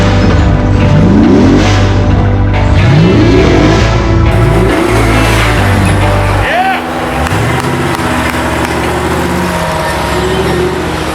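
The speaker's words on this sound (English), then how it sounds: "you have a 6'4" Hemi in your Jeep, just use more throttle and send it" A Hemi-engined Jeep revs hard up a steep off-road hill climb, the engine note surging and rising repeatedly before dropping away, loud and close, with voices around it.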